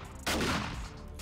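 A burst of rapid gunfire rings out in the 7 Days to Die video game as shots pass through a solid-looking block wall, one loud dense volley lasting about half a second before fading.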